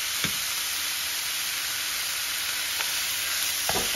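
Pork sizzles and fries in a hot pan with a little oil, a steady close hiss with a few brief stirring clinks, no voices.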